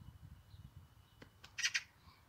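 A crow in a dog park lets out a quick double caw, loud and fairly close, after a couple of faint clicks, against a low outdoor murmur.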